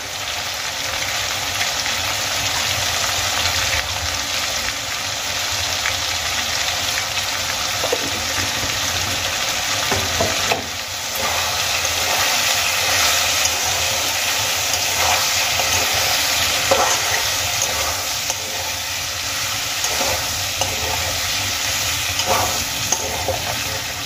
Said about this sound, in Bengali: সমস্ত সবজিগুলোকে আমি বেশ কিছুক্ষণ ভেজে নেব।